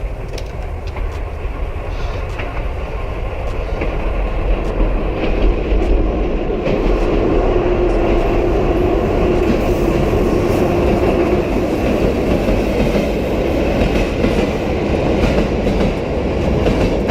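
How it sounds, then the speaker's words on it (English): A train rumbles steadily through an enclosed space, a low continuous roar building slightly with faint rail clatter, no voices. "the distant sound of an engine can be heard getting closer"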